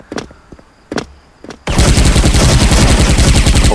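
Video game gunfire: three sharp single pistol shots ring out, then a loud, sustained burst of rapid automatic Uzi fire rattles on, close and dominant, with no talking.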